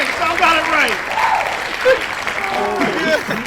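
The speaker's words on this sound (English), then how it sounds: "Round of applause." Scattered clapping from a small podcast group, mixed with overlapping voices and laughter, fairly close and brief.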